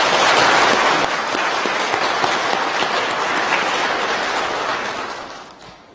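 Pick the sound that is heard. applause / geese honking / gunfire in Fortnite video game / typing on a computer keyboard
applause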